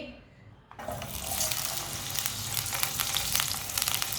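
Tinda (apple gourd) pieces land in half a cup of hot oil and fry with a steady, loud sizzle, with faint stirring crackles beneath.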